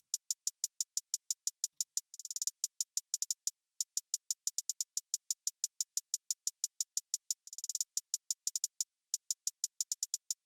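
A crisp hi-hat pattern for a trap-style beat ticks steadily with quick rolls bursting in twice, thin and bright, alone with no other instruments or voices.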